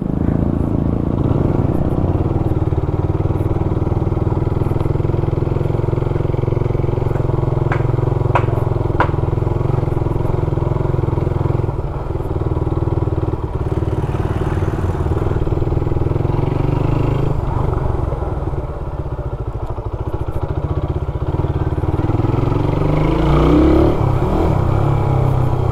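A Suzuki Raider 150 motorcycle being ridden, its engine droning loudly and steadily up close with wind rush, occasional shifts in pitch as it accelerates, and brief clatters along the way.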